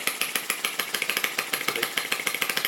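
Lister D model stationary engine running with a Retrol and Okmo setup, a close, loud, rapid regular chugging beat of even exhaust pulses throughout with no talking.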